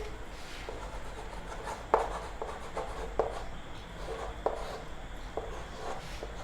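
Pen or marker writing an equation by hand, soft scratchy strokes with a few sharper taps as letters are formed, fairly quiet and close against a low background hum.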